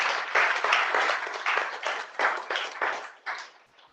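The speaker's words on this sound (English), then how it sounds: "may I please get a big round of applause for Kendelle and Sean" Audience applause after a public seminar on pancreatic cancer: many people clapping together in rolling bursts, strong at first and gradually fading away.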